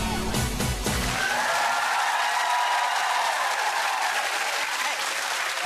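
A television studio audience applauds loudly and continuously, with a few whoops and cheers near the start.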